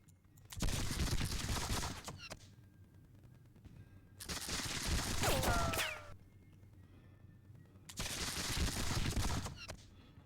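Musket volleys in a Seven Years War battle game at Zorndorf: three separate bursts of dense crackling gunfire, each lasting a couple of seconds with quiet gaps between, fairly loud.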